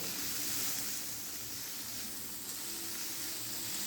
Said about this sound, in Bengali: মাছটা দিয়ে দেবার পর গ্যাসের ফ্লেমটা একদম লোতে রেখে এই মশলার সঙ্গে মাছটা একটু ভালো করে ভেজে নিতে হবে।